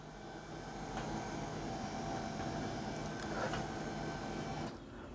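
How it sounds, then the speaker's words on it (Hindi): An HP LaserJet M1136 printer is switched on, and its scanner carriage moves with a steady mechanical whirring hum that runs evenly for several seconds before dropping off near the end. "तो प्रिंटर को ऑन कर देते और आप इस स्कैनर को देखिएगा"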